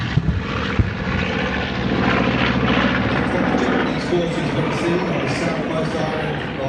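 B-25 bomber flying overhead at a fly-in event, a steady loud piston-engine drone with a propeller throb that fills the whole stretch, rising slightly toward the middle under crowd background.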